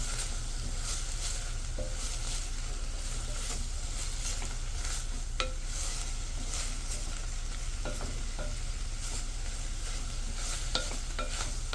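Vegetables for tomato soup sizzle and fry in a pot with a constant crackling hiss, broken by scattered light clicks and scrapes of stirring.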